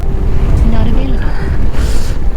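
Strong wind buffets the microphone of a rider coming back from Jomsom, a loud steady low roar running the whole time, with a voice speaking over it.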